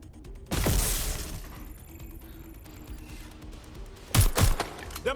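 Shootout gunfire in a video game: two loud, sharp bursts of shots, one near the start and another toward the end, with mechanical clatter and a lower rumble in between.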